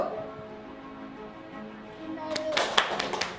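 After a quiet stretch with faint voices, a quick burst of several hand claps rings out close by near the end, during a listening exercise at a school for hearing-impaired children.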